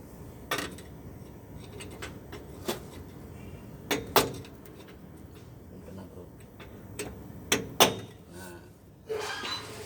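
A tool taps on a tight fuel filter to loosen it, a handful of sharp metallic knocks spaced irregularly over a low background hum, some in quick pairs.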